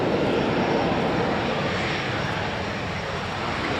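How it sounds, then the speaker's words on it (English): A two-seat Gloster Meteor jet trainer roars past at an air show, a steady, loud, broadband jet rush that holds for several seconds with no voices. "this is a two-seat trainer variant of an aircraft type, the Gloucester Meteor"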